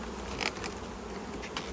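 Honeybees buzz around garden hives on a sunny day, a continuous swarming hum with individual bees droning past close to the listener.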